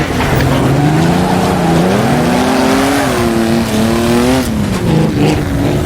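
Engine of an Auto Union Silver Arrow race car in a racing video game, a loud continuous whining drone that rises and falls through gear changes as the car brakes into a hairpin on a cobbled circuit, with no voices.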